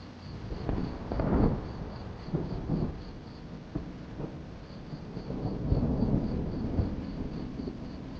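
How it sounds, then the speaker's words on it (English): Thunder over the African savanna where wildebeest and zebra graze, deep rolling rumbles swelling and fading across several seconds, with a soft hiss of rain or wind underneath. "Wildebeest have enough experience to know what comes after the sound of thunder."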